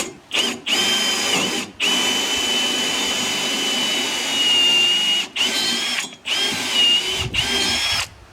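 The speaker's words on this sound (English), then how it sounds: "we'll drill the next one" A power drill bores a hole into a wooden veranda post, running in steady loud whining bursts with brief pauses between runs.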